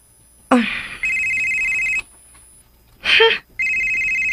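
A telephone rings in a radio drama scene, with two long, clear electronic ring bursts separated by short pauses and brief noisy sounds.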